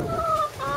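Chickens inside a cotton trailer converted into a chicken coop in Elgin, Texas, giving short, close clucks and a drawn-out tonal call over a busy background of other birds.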